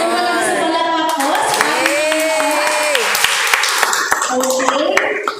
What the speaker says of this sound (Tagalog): Sa palakpak po.